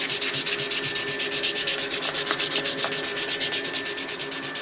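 Sandpaper rubbing steadily on a Coke bottle bushcraft knife handle, a loud, close, continuous rasping scrub with a regular back-and-forth rhythm while working through grits to remove scratches.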